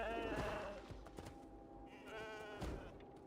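A goat in the video game Genshin Impact bleats in wavering cries, one near the start and another about two seconds later, moderately close, with voices talking around them.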